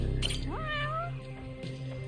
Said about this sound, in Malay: Tengok kucing.